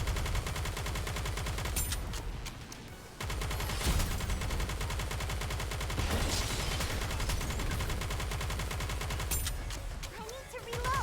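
Sustained gunfire in the video game Nikke: Goddess of Victory, with dense rapid bursts filling most of the stretch, a short break near the middle, then more continuous shooting, loud and close.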